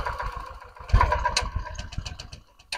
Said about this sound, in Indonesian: Dia starter jalan terus tapi hidupnya susah.